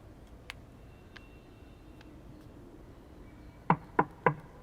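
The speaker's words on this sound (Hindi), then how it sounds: "नितेश बेटा, दरवाजा खोलो।" Three loud knocks on a door in quick, even succession near the end, preceded by a few faint taps, in a quiet indoor room with no talking.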